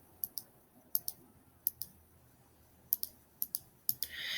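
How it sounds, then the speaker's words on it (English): Numbers are tapped into a calculator in a series of light, sharp clicks, some single and some in quick pairs, spaced irregularly against a quiet room. "So now I'm going to type it in."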